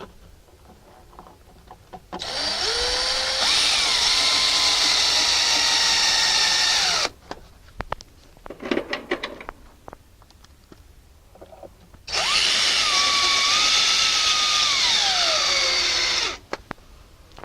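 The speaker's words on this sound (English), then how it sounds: "Pipe in. Put our screws in." A power drill drives screws while a dryer vent pipe is installed through a brick wall, with two long steady whirring runs of about four to five seconds each, separated by a gap of quieter handling noise.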